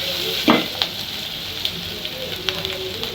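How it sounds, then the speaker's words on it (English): Onions frying in a pan for a beef stew, with a hot steady sizzle and crackle, a few sharper spatters and knocks of a utensil rising over the frying noise, close and moderately loud. "So today I'm going to fry with onions"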